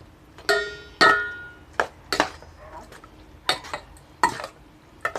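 Khanom jeen rice noodle salad being stirred in a bowl, several separate clinking and scraping strokes spaced irregularly, close and fairly loud.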